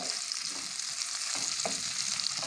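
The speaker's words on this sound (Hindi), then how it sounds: "प्याज को भी डालकर इस तरह अच्छे से भून लेंगे" Onion and garlic frying in oil while being stirred, a dense close hiss of sizzling with faint scraping strokes at intervals, no one talking.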